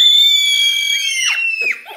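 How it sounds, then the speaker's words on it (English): A person screams with joy, a loud, sustained high-pitched shriek lasting about two seconds that wavers and drops in pitch toward the end, with no other voices. "can I have one moment of just screaming because I'm so happy?"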